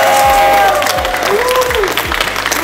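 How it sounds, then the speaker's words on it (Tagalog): A crowd at a jokes battle event bursts into loud sustained applause and cheering, dense clapping with shouts, while an amplified voice and music carry over the top. "ang malakas na palakpakan at sigawan ng bayan"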